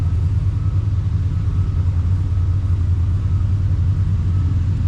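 A vintage tractor engine at a thresherman show runs with a steady, loud low rumble that holds constant with no pauses.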